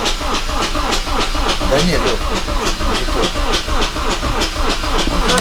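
An Audi A8 D3 engine with a knocking timing chain runs close by, giving a fast, even train of sharp metallic ticks over a steady mechanical hum, while someone briefly speaks.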